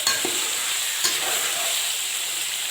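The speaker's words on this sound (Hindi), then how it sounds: "चिकन डालेंगे और इसी तरह भूनेंगे। अब हम इसमें टमाटर और सब्ज़ मिर्च डालेंगे" Chicken with tomato and green chilli frying in a pan, a steady, even sizzle with a couple of faint stirring knocks near the start, close and uninterrupted.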